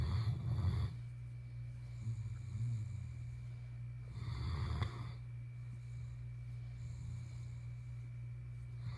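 Snoring from someone asleep indoors, two louder rasping bursts roughly four seconds apart over a steady low hum, faint and close by.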